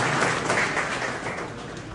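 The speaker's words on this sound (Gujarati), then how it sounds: "તાળીઓથી વધાવી લઈએ" Sustained clapping from a seated crowd at a community awards function honouring bright students, a steady, fairly close wash of hands with no talking.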